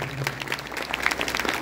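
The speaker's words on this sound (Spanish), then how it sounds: "un aplauso para Clase Julieta y todos los emprendedores que están acá" Audience applause at Suractivo in Chile, honoring Clase Julieta and the entrepreneurs present, a short burst of steady clapping with a faint murmur underneath.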